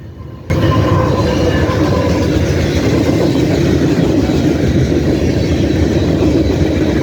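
A freight train in Ohio, one of three running back to back, rumbles past loud and close. The steady roar of rolling cars and rail noise starts abruptly and continues without voices.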